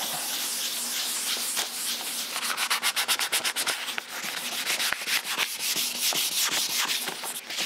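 Sandpaper rubs against a car's paint repair in close, continuous strokes. Partway through, a burst of quick back-and-forth scrubbing sets up an even rhythm.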